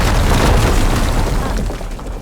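A wall gets blown up in the Horizon Forbidden West video game: one loud, close explosion roars out, then a dense rumbling blast slowly fades.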